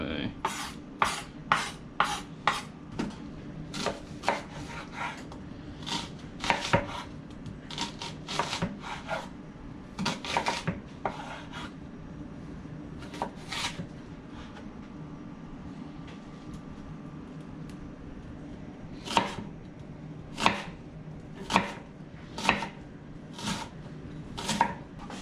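Repeated crisp knife strokes chop food on a board in a kitchen while breakfast for a cast iron skillet is prepared, with bursts of rapid cuts early on, a quieter stretch, then more evenly spaced chops near the end.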